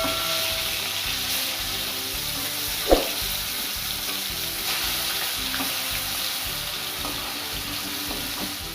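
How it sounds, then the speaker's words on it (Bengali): Steady oil sizzling and spitting from rohu fish frying in a wok, with a brief clatter near the start and faint kitchen clinks throughout; no talking. "লাল করে ভেজে নেব মাছটা।"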